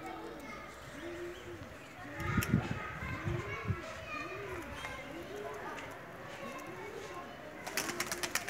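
Teddy and Rampuri pigeons give soft repeated rounded coos in a steady rhythm through the whole stretch, with faint outdoor background noise and occasional rustling.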